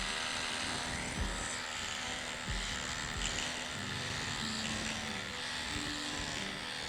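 A microneedling device buzzes against skin, a steady motorized whirr with a faint tonal hum holding level throughout, plus a few light clicks and bumps, close and moderately quiet with no talking.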